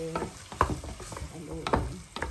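Holiday corned beef being sautéed in a pan is stirred with a utensil, giving a few soft scraping strokes over a quiet, steady sizzle.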